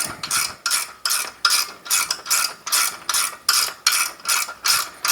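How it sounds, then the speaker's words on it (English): A speed wrench ratchets on a long threaded bolt while an accelerator motor kit goes onto a Brunswick GSX pool table, giving about eleven crisp, close clicking bursts in a steady back-and-forth rhythm with nothing else heard. "At least we have speed wrenches."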